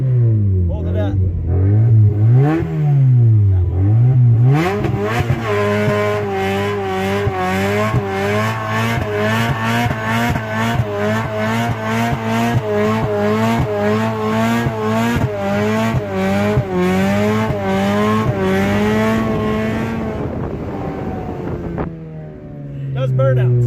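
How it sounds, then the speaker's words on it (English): A Mazda Miata with a welded differential revs hard into a burnout, its engine droning and rising in pitch while the tires squeal continuously for about twenty seconds, close and loud, before the engine drops back. A voice talks briefly at the start. "we're gonna see if it does a burnout now."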